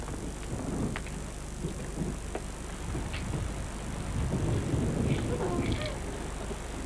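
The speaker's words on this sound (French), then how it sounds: "Ma pluie favorite. Il pleut." Steady rain hisses and patters outdoors, with a low rumbling wash and occasional faint clicks of drops.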